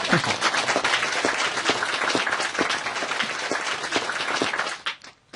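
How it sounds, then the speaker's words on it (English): An audience at a spiritual talk claps for themselves, a thick, continuous burst of many hands that stays even for several seconds, then drops away quickly near the end. "Now you can clap for yourself."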